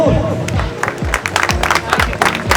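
A crowd applauds with quick, loud clapping, accompanied by low thumping beats and voices in the background.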